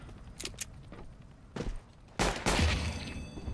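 Shotgun blasts in a multiplayer shooter game: a couple of sharp, loud bursts near the end after quieter clicks and movement sounds, with no talk.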